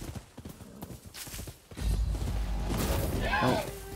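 Horse hooves clip-clop in the video game Rise of the Ronin as the horse is called, a rapid drumming of steps that swells louder midway beneath game ambience and a brief whinny-like cry.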